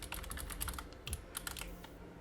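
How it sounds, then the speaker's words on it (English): Rapid typing on a computer keyboard during a Unity 2D platformer coding session, with steady clustered keystroke clicks and a few louder key presses, close and alone with no talk. "I'm gonna finish typing"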